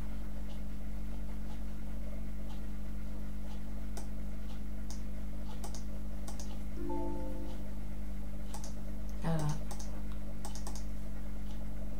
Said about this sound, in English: So I'll type in my password, I'll click connect, and now it will load up.